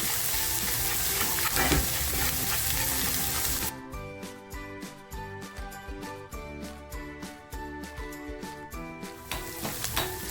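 Ginger, garlic and chili paste frying with onion in a pan for rawas masala, an initial loud dense sizzle that gives way to rhythmic clinking stirring strokes against a quieter fry.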